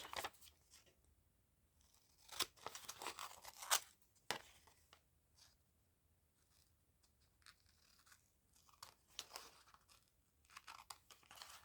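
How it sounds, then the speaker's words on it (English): Scissors snip and slice through old magazine paper in irregular bursts, with crisp crinkly cuts and quiet gaps between them, close by. "It's slightly more raised, so it's easier to run the scissors along it."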